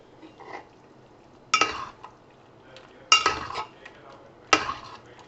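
Pasta and whipping cream are mixed in a bronze uruli pot, three distinct metallic scrapes and clanks spaced about 1.5 seconds apart, with softer handling noise between them.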